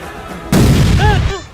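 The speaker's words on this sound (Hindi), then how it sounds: "चल भाई रस्सी बम हाथ में फोड़" A rope bomb firecracker bursts with a single sharp, loud bang during Diwali, held in the hand, followed by a brief voice reacting.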